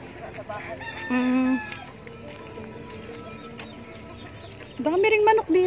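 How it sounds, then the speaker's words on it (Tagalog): Roosters crowing among chickens in a Tondo slum yard in Manila, two loud close crows a few seconds apart over clucking and background chatter of people talking. "Dami ring manok dito, oh."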